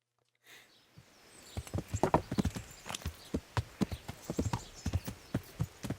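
Horse hooves clip-clop in a steady walking rhythm in the medieval video game Kingdom Come Deliverance, starting after a short pause and continuing as close, fairly loud repeated thuds with no talk over them.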